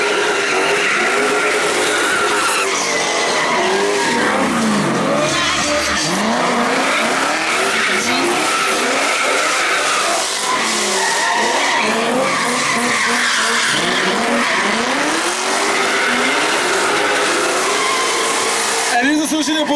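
Drift cars slide through wet conditions at a show, tyres squealing in long rising and falling wails while engines roar, loud and continuous with overlapping skids.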